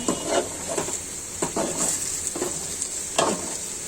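Pumpkin and rohu fish curry being stir-fried with ground garam masala, cardamom, black pepper and cloves, a close steady sizzle with repeated scraping and knocking spatula strokes against the pan every second or so.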